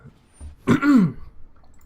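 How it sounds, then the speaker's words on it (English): A single short, rough throat clearing sounds close to the microphone, a brief gravelly rasp during a card game session, followed by quiet. "I'm sorry that I keep coughing. It's just, I got a bit of a frog in my throat."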